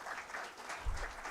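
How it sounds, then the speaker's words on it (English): An audience applauds at a book launch event with a steady wash of clapping that holds evenly throughout. "I think another round of applause for him"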